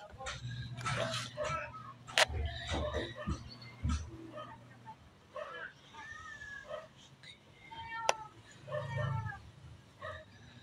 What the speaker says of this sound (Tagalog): Baby cat siya guys.